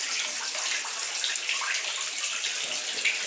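Swimming pool water rushing out through the bottom drain as the pool empties, a steady dense hiss and gurgle of flowing water with no pauses, fairly loud and close.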